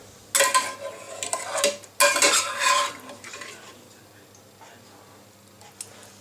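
Metal spoon scraping and tapping in a bowl as beer pizza topping mixture is spread over a pizza base, two dense bursts of clinks and scrapes up close, then quieter occasional touches.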